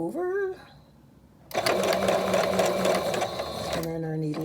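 A sewing machine stitches a fabric face mask with a close, steady, fast mechanical whir for a few seconds, with a person speaking briefly before and after the stitching.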